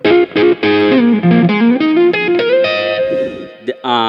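An electric guitar played through a Mooer Prime P2 effects unit with light overdrive, sounding a loud, sustained melodic phrase of bent and held notes with a few short breaks, close and alone.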